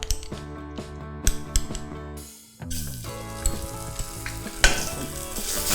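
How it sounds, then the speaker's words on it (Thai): Curry paste of pounded dried chillies, garlic, shallots, galangal and lemongrass stir-fried in hot oil, with loud steady sizzling and repeated scrapes and clanks of a spatula against the pan, a brief lull, then renewed frying. "แล้วก็ผัดพริกแกงให้หอมนะครับ"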